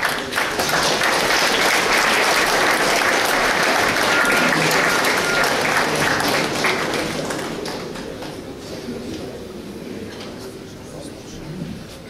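Steady applause from a large audience at a military concert, loud at first and then gradually thinning and fading toward the end.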